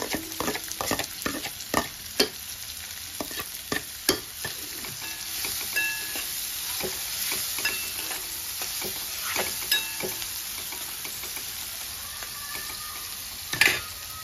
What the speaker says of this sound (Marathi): आता कांदा परतून घेऊ।